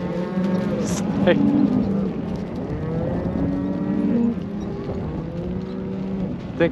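Ranch cows moo in overlapping, drawn-out calls close by, several animals bellowing one after another, with a faint knock of hooves or movement in between.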